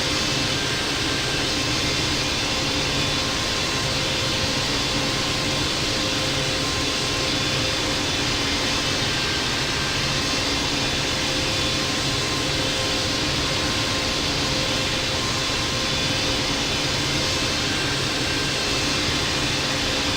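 A Boeing 777-200 jet takes off at LAX in the Infinite Flight simulator, its engines giving a loud, unbroken broadband roar with faint steady whining tones throughout.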